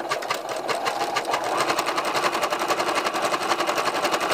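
A sewing machine runs steadily as it stitches batting scraps together with dark thread, making a fast, even mechanical chatter at close range with no pauses.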